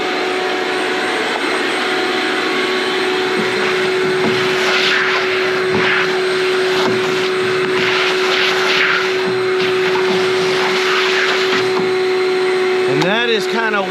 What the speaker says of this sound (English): Do a little more vacuuming there.